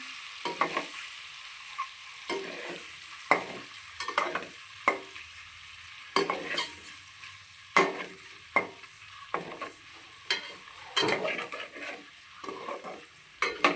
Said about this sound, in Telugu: కొంచెం ఉప్పు వేసుకొని పసుపు వేసుకొని వేయించుతున్నాను అనమాట